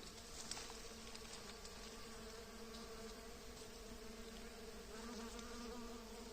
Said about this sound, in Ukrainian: такий гул, як у вулику. Зацвіла малена лісова і бджілки працюють.